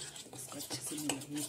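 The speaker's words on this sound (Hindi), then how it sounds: "अब इसको मिक्स कर लेंगे, इसमें मिल जाए, अच्छी तरह से मिल जाए।" Jackfruit pickle ingredients are stirred and mixed in a bowl, making soft close scraping and clinking utensil sounds in an uneven rhythm at low volume.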